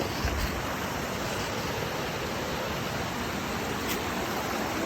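A waterfall on a mountain property after Hurricane Helene flooding, its rocks restacked, gives a steady, dense broadband roar of rushing water that holds even and unbroken throughout.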